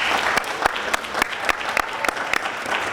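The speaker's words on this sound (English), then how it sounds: "So again, one more round of applause for Natalie." Steady applause from an audience at a youth spoken-word competition, dense clapping with a few sharp, prominent claps standing out throughout.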